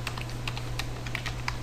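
Rapid typing on a computer keyboard, close and clear, a quick irregular run of key clicks over a steady low hum with no voices.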